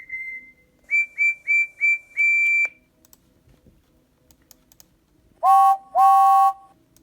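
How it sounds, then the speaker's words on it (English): Thomas the Tank Engine steam whistle: a run of short, high, clean toots, one slightly longer note, then a pause before two louder, fuller blasts close by. "Should I whistle too?"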